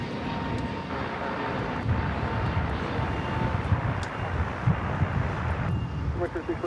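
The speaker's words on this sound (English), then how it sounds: "It's Lufthansa 747-8 Intercontinental delivered 11 years ago. Yankee Lima now starting its taxi." A Lufthansa Boeing 747-8 Intercontinental begins taxiing at LAX, its jet engines producing a steady broadband roar with some wind buffeting on the microphone, continuous and moderately loud.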